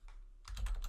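Quick, close-up keystrokes on a computer keyboard as an entry is typed during RPA software work with a JSON object manager; the clicks begin after a brief quiet moment and continue as a rapid cluster.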